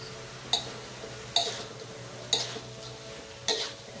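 Papaya and papaya flowers being stir-fried in a pan, with four crisp scrapes of a utensil against the metal at steady intervals over a soft background sizzle.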